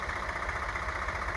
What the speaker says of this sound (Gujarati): 744 ટ્રેક્ટર તેની પાછળ કટર આપી દીધી છે.